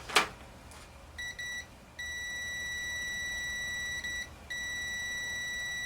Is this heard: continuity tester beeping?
yes